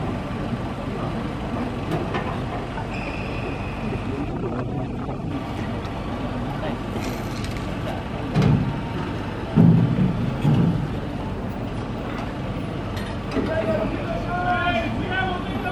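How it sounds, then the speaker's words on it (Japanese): An air defense unit vehicle's engine starts and runs at Japan Air Self-Defense Force Hamamatsu Base, a steady low rumble throughout with louder bursts midway, under voices talking. "今からエンジンが回ります。"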